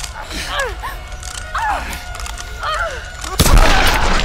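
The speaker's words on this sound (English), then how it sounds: "shoot the fucking gun in his face" A gunshot goes off in Tomb Raider Definitive Edition: one loud, close, sharp crack near the end, after a stretch of whining, creaking game sounds.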